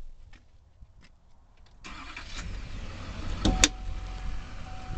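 A Chevrolet K2500 crew cab diesel 4WD pickup engine cranks and catches, settling into a steady low idle rumble after a few quiet clicks and rattles.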